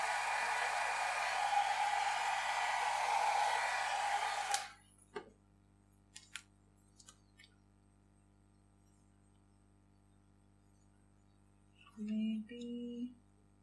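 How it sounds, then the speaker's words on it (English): A hair dryer blows with a steady, loud rush of air for about five seconds drying alcohol ink, then cuts off, leaving quiet with a few small clicks and a brief tone. "I'll just use the dryer to dry it once"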